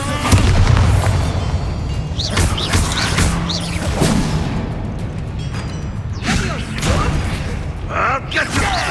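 Fiery Confringo spell blasts in Hogwarts Legacy combat burst as several loud, heavy booms mixed with mechanical clanks and crashes, densely packed over a few seconds.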